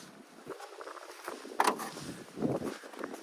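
A 2013 Opel Vivaro passenger van with a 2.0 engine and robotized gearbox cranks and catches, then idles with a low, steady rumble close by, with a brief rise in engine noise midway and no talking.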